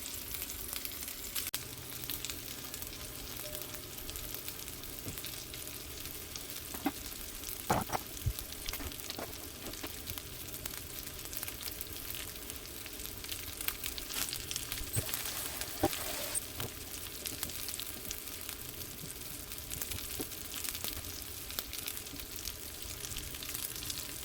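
Pork chops sear in a cast-iron Lodge skillet with a soft, continuous sizzle and crackle. A few light clinks and scrapes rise over it, and no voices are heard.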